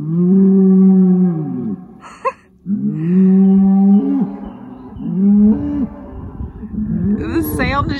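A big bull bellows in long, loud, close moos toward another bull, several deep calls in a row, echoing and carrying across a muddy river bottom, with low talk and shuffling between them.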